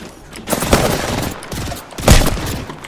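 Burst-weapon gunfire in Apex Legends at the firing range, rapid loud bursts of shots in two dense clusters with continuous game noise between them.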